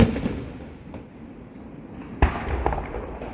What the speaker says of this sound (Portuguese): Fogos de artifício na Alemanha, 8 de setembro